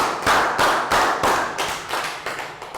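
Primary classroom pupils clap together in a round of applause, a steady chant-like rhythm of loud unison claps repeated about eight times with no voices.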